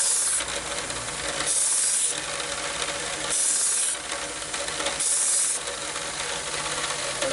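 Knife sharpening machine grinding a blade edge, a continuous harsh abrasive rasp with bright hissing surges as the steel is drawn across the wheel in repeated passes, close and steady with no voices.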